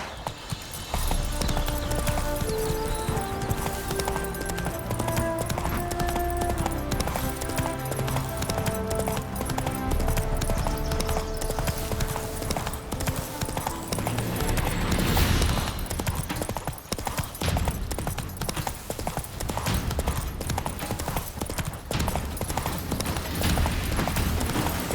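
Hooves of Roach, the horse in The Witcher 3, clip-clop in a steady rhythm under a continuous game music score, with a brief neigh heard amid the trotting.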